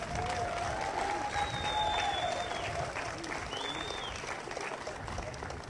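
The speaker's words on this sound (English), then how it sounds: "Let's give Mr. Guy a round of applause." A crowd at the naming ceremony for the Leonard L Williams Justice Center gives a sustained round of applause for Mr. Guy, steady clapping with a couple of thin whistles rising above it.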